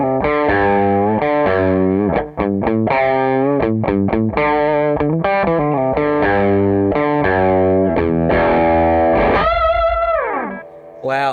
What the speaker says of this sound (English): What have we got for some distortion?